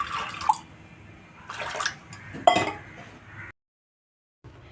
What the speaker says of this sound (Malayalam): ആവശ്യത്തിനുള്ള വെള്ളം ഒഴിച്ച് കൊടുത്തിട്ട് പരിപ്പ് ഫസ്റ്റ് ഒന്ന് വേവിച്ചെടുക്കാം